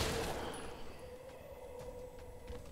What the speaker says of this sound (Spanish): Me gustó ese disparo.